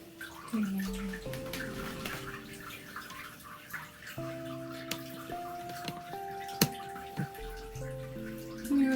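Water splashing and dripping in a bathtub during a dog's bath, with quiet intermittent trickles, drips and small splashes alongside faint tonal squeaks and occasional sharp knocks, fairly soft and close.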